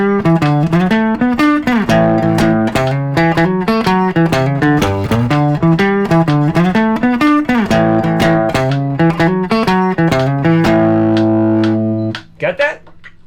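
Electric guitar plays an intro riff, a choppy rhythmic run of repeated chords and bass notes for about twelve seconds, close and loud, ending on a ringing chord.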